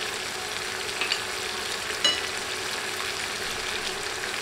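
Sweet pumpkin pieces with green chili, turmeric and salt being stirred in a pan over medium heat, a steady soft sizzle with a couple of light spatula knocks.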